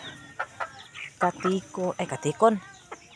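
Chickens clucking near a coop in a series of short, close clucks and squawks with brief gaps between them, while a person talks now and then.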